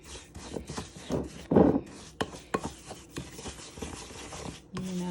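A homemade salt exfoliating scrub is mixed by hand in a container, producing gritty, irregular scraping and rubbing strokes up close, with a few sharper scrapes and a brief soft clink near the end.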